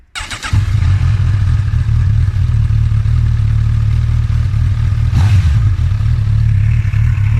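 2018 Honda CB1000R motorcycle engine idling with a double exhaust outlet, loud and close, settling at once into a steady deep throbbing rumble that holds with only slight unevenness.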